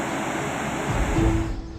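Floodwater rushing out through twenty partly opened gates of an overflowing dam, a broad, continuous roar of churning water, loud and steady over a short stretch with no speech.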